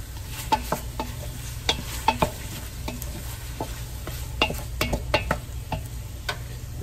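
Garlic frying in a pan for a Hungarian goulash, a low steady sizzle broken by scattered sharp clicks and taps of a utensil against the pan, close and moderately loud.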